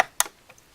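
A bobbin case snaps into place in a Juki sewing machine: one sharp close click followed by a couple of faint small ticks, alone and quiet.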